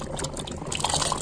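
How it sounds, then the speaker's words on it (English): Rinsed potatoes tip from a strainer into a pot of corn chowder with a short, wet splash and tumble of liquid that runs steadily for a moment, close by. "I'm going to add the potatoes, which I rinsed to get some of the starch off of them"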